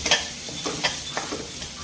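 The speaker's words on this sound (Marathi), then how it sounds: "मग हे थोडंसं फ्राय होऊन द्यायचं मसाल्यांसोबत." Spices frying in a pan with grated paneer masala, a loud close sizzle with a few quick stirring scrapes in rhythm, no voice present.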